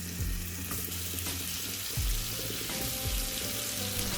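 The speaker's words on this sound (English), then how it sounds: "You will add cooking oil on your frying pan" Seasoned lamb chops frying in cooking oil in a frying pan, a soft, steady sizzle with a few low thumps and scraping sounds from the pan, heard fairly quietly without any talking.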